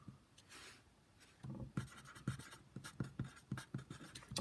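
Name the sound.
writing by hand on paper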